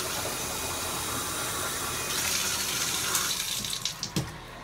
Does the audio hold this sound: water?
yes